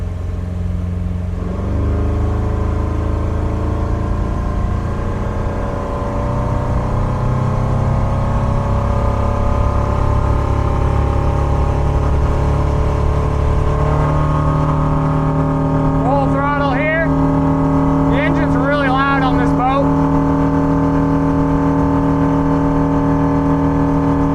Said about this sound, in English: Full throttle, engine's pretty loud.